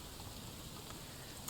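Steady rain hissing across the scene in the wartime strategy game Strategic Mind: The Pacific, set around Okinawa, a soft continuous wash at low level with no talking.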